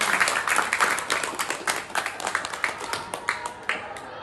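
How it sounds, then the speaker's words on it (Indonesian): Audience applause at a school talk show event, lively clapping from a room of students that starts strong, then thins into scattered, uneven claps toward the end. "Boleh beri tepuk tangan untuk kita semua."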